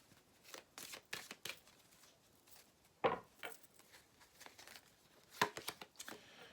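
Tarot cards being shuffled and drawn at a reading: soft papery flicks and riffles in a quiet room, with two sharper snapping shuffles standing out, close and fairly faint overall.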